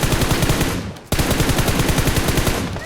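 Rapid automatic gunfire rattles through a video game battle royale match, with dense, fast bursts of shots, a brief break near the middle, then another long volley, loud and close, with no voices.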